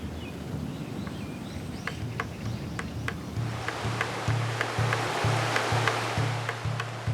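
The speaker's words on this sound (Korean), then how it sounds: "속리산의 시원한 물소리." Cool mountain water flows steadily at Songnisan, a continuous broadband rush with no voices and a low rhythmic tone pulsing beneath it.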